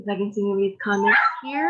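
A dog barks and whines in short, close bursts while a person talks over it.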